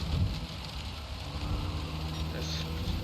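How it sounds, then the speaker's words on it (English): In the video game Gran Turismo 7, heavy rain drums in a faint, steady hiss on the windscreen of a Civic during a wet race, with a low engine drone and a voice talking over it. "It's raining quite heavily as well, as you can hear on the windscreen"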